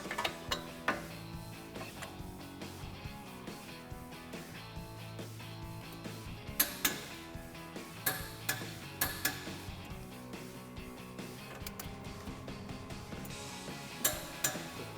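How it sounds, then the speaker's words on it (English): A torque wrench clicks and ratchets while tightening strut spindle bolts on a 2005-2014 Mustang, with sharp metallic ticks and clunks recurring unevenly over a quiet background of faint mechanical rattles. "you wanna make sure you're setting your torque wrench to 148 foot-pounds and then torque them down"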